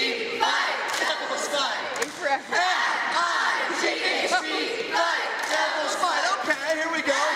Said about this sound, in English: We're going to do a fight cheer, right?